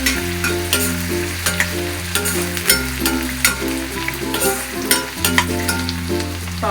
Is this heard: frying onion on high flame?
yes